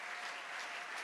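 A church congregation bursts into sustained applause, a dense wash of clapping hands filling the space steadily and fairly loud, with a faint voice or two underneath.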